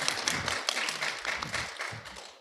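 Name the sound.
audience applause welcoming a speaker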